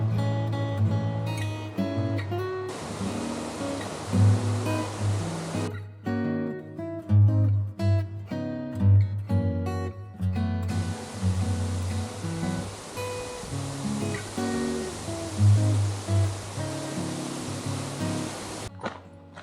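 A waterfall at Todtnau in the Black Forest rushes as a loud, steady broadband roar in long stretches, broken by brief gaps where tonal background music shows through.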